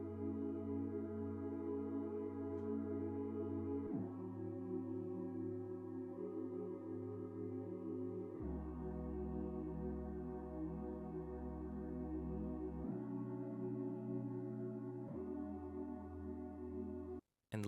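A soft, smooth R&B synth plays alone, holding sustained chords that change every few seconds. It is faint and mellow, with no other sounds beneath it.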